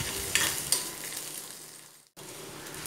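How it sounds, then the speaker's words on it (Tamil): Onions sizzle steadily in a frying pan, with two light clinks of a spatula early on, then a brief cut before the frying resumes. "இப்போ வதக்கிட்டு நல்லா இந்த வெங்காயம்லாம் நல்லா வதங்கின அப்புறம்"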